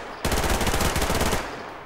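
Rapid automatic gunfire in a multiplayer shooter video game, one loud sustained burst of close shots that cuts off after about a second, followed by a fading tail.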